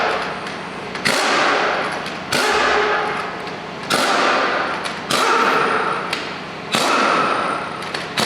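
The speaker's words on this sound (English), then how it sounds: "I'm probably gonna have to hammer it out." Broken axle shaft being hammered out of a 1994 Toyota 4Runner, six hard metallic blows about a second apart, each ringing and fading before the next.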